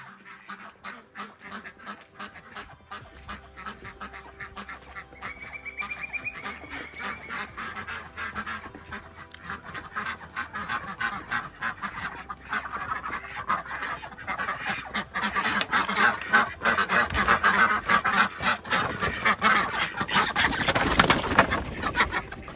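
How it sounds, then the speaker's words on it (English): Penned homestead ducks quack and honk continuously in the morning, eager to be let out. The chorus is dense and overlapping and grows louder toward the end. "the ducks are already yelling for me to let them out"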